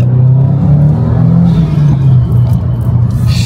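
Subaru WRX with an upgraded exhaust driving, a deep, loud, steady engine rumble and drone held close by, fluctuating slightly without clear revving peaks.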